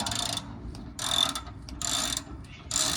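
A ratchet wrench loosens a bolt on a 4x4, giving four close, rapid clicking bursts separated by short pauses. No one speaks.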